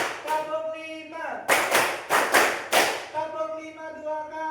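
A class claps in rhythm, with a short run of sharp, close hand claps in quick succession, set between stretches of a voice speaking.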